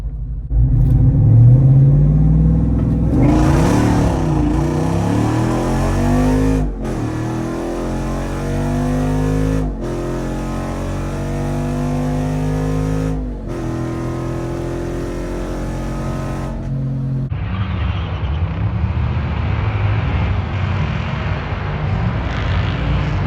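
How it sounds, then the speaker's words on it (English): A Jeep Wrangler Rubicon 392 V8 on massive tires and a 392 Charger with an aftermarket exhaust roar loudly through hard acceleration with rising, stepping revs and gear shifts, then ease off to a lower rumble. "So we've got a 392 Charger this time. It's got no mods, but it does have an exhaust"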